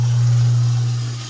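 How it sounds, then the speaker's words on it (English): A kitchen sink garbage disposal runs with a steady, loud, low motor hum that holds evenly and then begins to fade at the end, with no talk. "And we'll run the garbage disposal."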